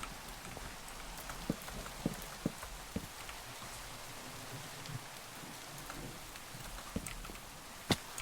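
Rain falls in the TerraFirmaGreg modpack for Minecraft as a steady, even hiss, with a few faint, sharp ticks scattered through it.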